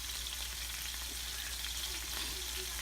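Sirloin steaks sear in a frying pan with a steady, close, hissing sizzle that runs unbroken throughout.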